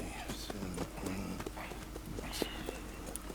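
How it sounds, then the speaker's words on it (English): Horse hooves clip-clop in the video game Red Dead Redemption 2. The steady, moderate hoof taps sit under ambient game sound and faint voices. "And a fine new horse."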